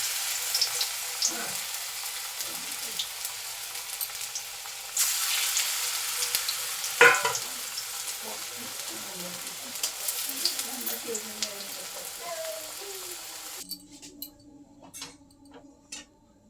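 Radish fritters fry in hot oil with a continuous crackling sizzle and scattered pops that grow louder partway through, then the sizzle drops away near the end, leaving faint ticks and clatter.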